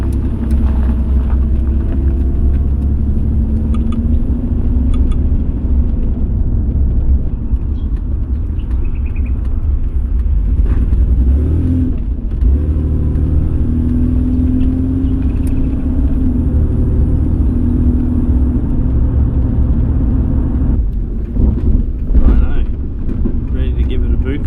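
A VL Commodore engine drones steadily with low rumble and wind buffeting the microphone, the revs rising and falling as it pulls away onto a highway, with a short burst near the end.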